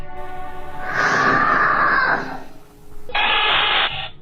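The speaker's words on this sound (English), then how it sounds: "Then a loud scream pierces the air, sending the little girl running for mommy." A woman's loud, sustained scream rings out in a home near a little girl's room, in two long, piercing bursts separated by a brief dip.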